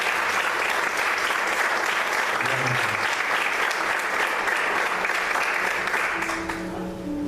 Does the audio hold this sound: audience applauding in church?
yes